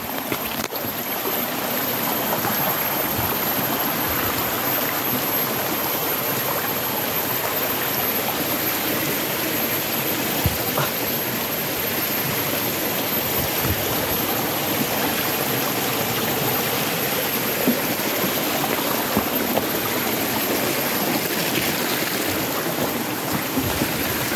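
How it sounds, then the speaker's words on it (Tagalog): A flowing stream in an outdoor creek, a steady broadband rush and babble of water that is close and continuous throughout, with no voices. "Dito na ako sa Sapa mga tol."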